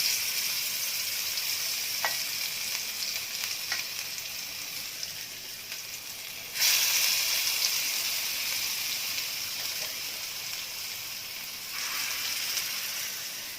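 Paneer pieces shallow fry in hot oil with a continuous crackling sizzle, punctuated by a few sharp pops early on and a sudden louder surge of spitting midway that gradually settles.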